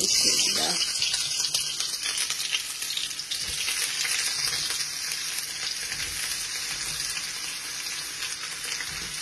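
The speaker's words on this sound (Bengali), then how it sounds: "অয়েল গরম হয়ে গেছে, অনিয়ন দিলাম" Chopped onions frying in hot oil for a Bangladeshi aloo baazi, a dense steady sizzle that bursts in at the start and then holds loud and close with faint stirring, no voice.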